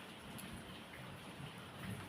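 Rain falls steadily, a dense, even hiss of drops with no voices over it, holding at a constant level for the whole short stretch.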